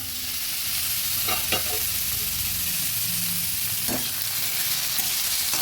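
Vegetables for oats khichuri are stirred in a pan, a steady close sizzle with a few scraping strokes of the spoon scattered through it.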